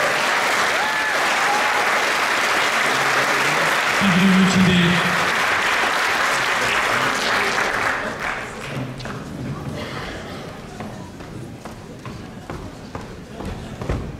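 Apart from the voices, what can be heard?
audience applause for bodybuilding competitors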